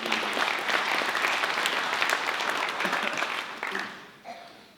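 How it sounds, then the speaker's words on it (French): An audience at a mayor's New Year greetings event applauds steadily and fairly loudly for several seconds, the clapping thinning out and fading toward the end. "je crois que vous pouvez même l'applaudir en son absence"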